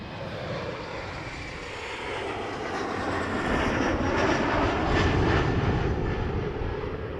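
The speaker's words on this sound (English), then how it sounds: "And inbound, an Embraer if you're playing the game." An inbound Embraer airliner at Toronto Pearson Airport makes a continuous broad engine roar that swells gradually, peaks after about five seconds and stays loud, with no voices over it.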